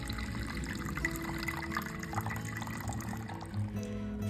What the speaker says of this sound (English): I began by measuring 325 grams of warm water into my bowl